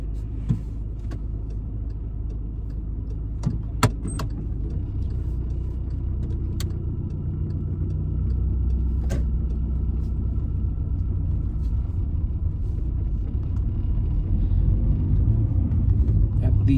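A car pulls away during a mock driving test in Wood Green. A steady low engine and road rumble builds as it drives off, with small clicks inside the cabin and voices talking.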